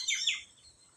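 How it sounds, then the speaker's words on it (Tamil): Birds chirp outdoors in nature, a quick burst of high, bright tweets that fades after half a second into faint quiet background. "இந்த இயற்கைகளின் பறவைகளின் ஓசைகளும் இரவின் ஓசைகளும்"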